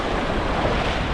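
Strong sea water current rushes steadily at a fishing spot where a net is set, a loud, dense, continuous roar with wind noise buffeting the microphone and no voices.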